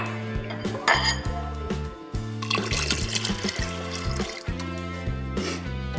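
Chicken broth pours steadily into an Instant Pot of black beans, a continuous liquid splash and trickle with occasional clinks of metal and dishes, close and fairly loud against a constant low hum, with no talking.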